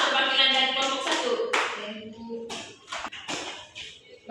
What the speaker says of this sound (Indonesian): Tepuk tangan untuk Eka, perwakilan dari kelompok 1.